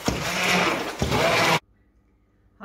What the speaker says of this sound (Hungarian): Az egész összetúrmixoljunk.